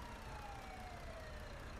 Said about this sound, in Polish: syrena jedzie jakaś. Albo karetka, albo policja.